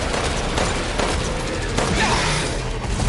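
Rapid bursts of Resident Evil Village gunfire crackle continuously over a noisy, busy background.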